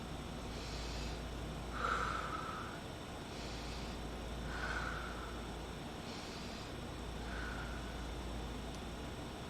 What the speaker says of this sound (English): Together, let's inhale and exhale 3 times.